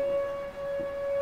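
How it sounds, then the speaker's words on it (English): A tornado warning siren wails as a single sustained, steady tone with a slight dip midway, heard at a distance over a quiet background. "That's a tornado warning siren."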